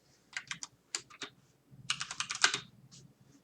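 Close computer keyboard typing in short uneven bursts of crisp key clicks with brief pauses, alone and fairly quiet.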